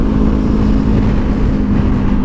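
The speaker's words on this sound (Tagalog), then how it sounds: "Oh, may big bike sa likod natin, guys." A big sport bike riding behind on a long road trip toward Clark makes a loud, steady engine drone with a constant low hum and no clear gear changes, close and continuous.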